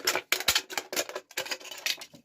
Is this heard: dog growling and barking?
no